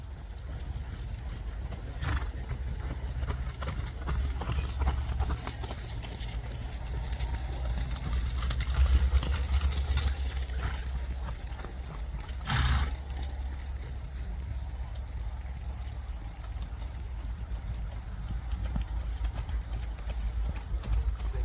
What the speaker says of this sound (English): And let's trot our horses, please.